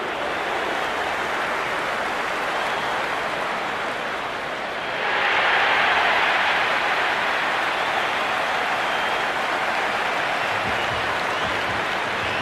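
Cricket crowd at an IPL match between Chennai Super Kings and Mumbai Indians, a steady wash of cheering and applause that swells louder about halfway through and stays high, with no voices standing out.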